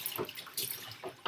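Water runs from a kitchen tap into a sink while dishes are washed, a close, hissing splash that surges and eases in short bursts, with dull clinks and sloshes between.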